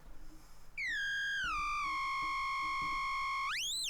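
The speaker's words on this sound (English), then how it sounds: "we have pushed the filter fully into self-oscillation. So it's basically creating a sine wave" A pure electronic sine tone from a Korg MS-20 low-pass filter clone in self-oscillation, with a strong harmonic stack, glides downward in pitch, holds steady, then sweeps sharply upward near the end.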